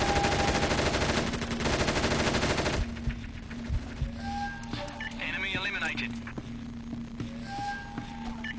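Sustained automatic gunfire in the SOCOM U.S. Navy SEALs Tactical Strike video game, a loud dense burst that cuts off into quieter scattered shots and game sounds, with voices talking.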